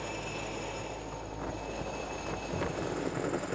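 A small helicopter flying to a cave entrance in February, its steady broadband rotor and engine roar continuous and fairly loud throughout, swelling slightly toward the end.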